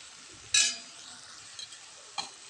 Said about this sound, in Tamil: போட்டுட்டு நல்லா மிக்ஸ் பண்ணிடணும்.